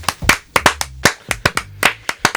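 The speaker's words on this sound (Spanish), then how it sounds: "Un aplauso a Clara Zetkin." A few pairs of hands clap in an irregular, close, sharp burst of roughly a dozen crisp claps during a Spanish-language talk show.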